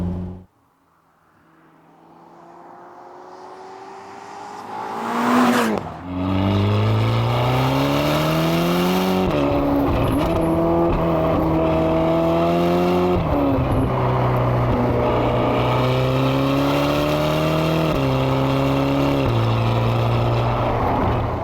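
A Ferrari California T engine, heard while driving on a country B-road, swells from quiet to a loud roar. It then holds a strong, steady drone that rises and falls through gear changes, with no talking.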